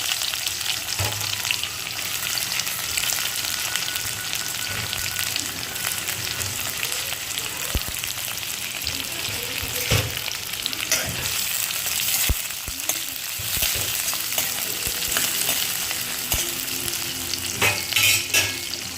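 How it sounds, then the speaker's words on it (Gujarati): Onion frying with cumin seeds in a pan for vegetable pulao, a loud continuous sizzle with frequent scraping and tapping of a spoon as it is stirred, sustained throughout with no talking. "જીરું થઈ જાય એટલે આપણે એમાં ઓનિયન એડ કરીશું"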